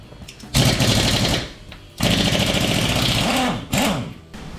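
A tire being removed from a jacked-up Jeep Wrangler JL during a brake job, with three loud, sustained mechanical rattling bursts separated by short pauses, close by and with no talking.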